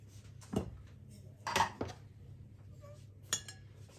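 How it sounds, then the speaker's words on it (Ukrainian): A few separate clinks and scrapes of a spoon scooping semolina in a bowl of water, spaced out over a quiet background with a faint low hum. "наливаємо в мисочку води і будемо ложкою викладати"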